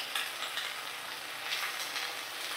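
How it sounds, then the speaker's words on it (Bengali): Leafy greens frying in a pan make a dense, even hiss of close sizzling with faint swells of stirring, and no voices. "তো চলো শাকটা ভালো করে ভাজা করে নিই।"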